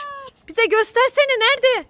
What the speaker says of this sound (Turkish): Bak kedi sesini duyuyor musun?